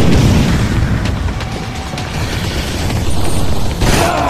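A bomb goes off in the Modern Combat 4: Zero Hour shooter game, a loud sustained roaring blast that rumbles for several seconds and then swells again with a sharper burst near the end.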